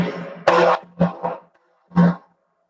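Hand strikes on a macho bongo drum, one sharp rim shot then muted center strikes, four separate bursts with short gaps, close and clear with no talking.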